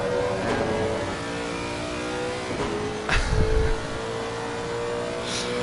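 A racing car on the Imola circuit in an esports sim-racing game, its engine revving and changing pitch through gear shifts, with a brief heavier burst of braking and engine noise near the middle.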